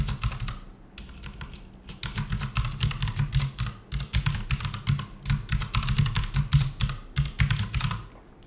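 Rapid clattering keystrokes on a computer keyboard while entering a password, a close, steady run of clicks with brief pauses between bursts and no talking.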